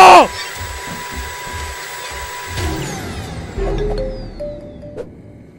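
Steady loud whooshing drone of a vacuum cleaner sucking up a spider in a video game, running for several seconds and then shifting pitch and fading out.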